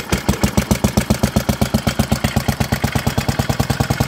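A 1964 Allis Chalmers B-10 garden tractor engine, its carburetor never rebuilt, runs after starting, firing in a steady, fast, loud rhythm that sounds close by with no talking over it.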